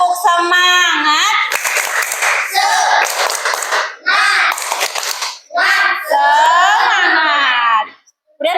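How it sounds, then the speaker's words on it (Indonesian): A school class does a rhythmic spirit clap, bursts of group clapping alternating with children chanting together in a sing-song rhythm, loud and close. "coba tepuk semangat"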